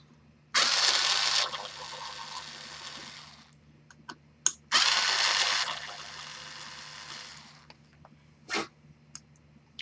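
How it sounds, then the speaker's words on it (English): Two long hissing bursts, likely a power screwdriver or compressed air, work on the gear cover screws of a Daiwa Saltist LD35 two-speed fishing reel, with small clicks and a brief squeak between and after them. "Let's take out these 2 screws right here"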